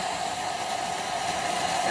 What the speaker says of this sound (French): Alors moi je prends un sèche-cheveux.